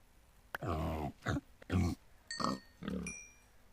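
A pig in the Minecraft video game gives a run of five or six short, clipped grunts and oinks in quick succession, close and fairly loud.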